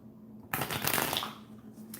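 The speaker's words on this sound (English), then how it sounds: "If the shuffling's loud, please adjust your volume." A deck of tarot cards is shuffled during a live reading, producing a single dense riffling burst of papery flutter lasting about a second, close and moderately loud over a faint background hum.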